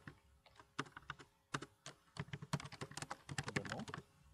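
A computer keyboard is typed on at close range with quick, uneven keystrokes that speed up into a dense flurry near the end, soft and clicky in a quiet room.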